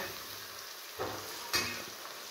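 Chopped onion sautéing in a pan at home, a steady soft sizzle with two brief louder scrapes of stirring.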